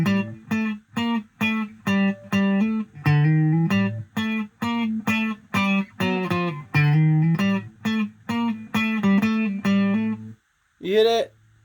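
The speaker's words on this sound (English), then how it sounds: "But that's chorus without reverb." Electric guitar through a Fender Champion 40 amp with chorus and no reverb, played as a fast run of short plucked notes and chords that cut off cleanly, ending with a brief bent note after a pause.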